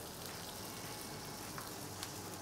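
Butter sizzles and crackles in a hot pan on reduced heat, a steady close frying hiss with fine popping throughout and no talk.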